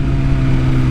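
A 2021 BMW S1000RR motorcycle with a newly fitted titanium header and exhaust runs with a loud, steady engine drone heard up close for a brief moment.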